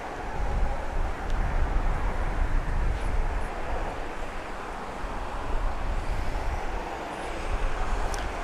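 Airplanes taking off and landing at Grand Cayman airport, heard as a continuous distant jet engine rumble and roar that swells and eases, steady and moderately loud with wind-like texture and no speech.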